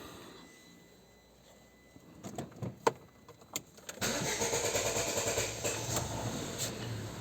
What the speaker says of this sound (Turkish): Arabayı bir çalıştıralım.